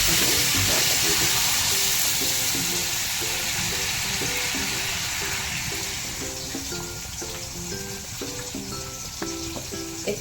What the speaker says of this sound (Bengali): এটা এবারে তার সঙ্গে জলটা দিয়ে দিচ্ছি।